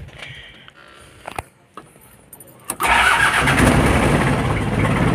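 A Toyota Hero single-cab pickup truck's engine cranks and catches after a few faint clicks, then settles into a loud, steady idle that runs to the end.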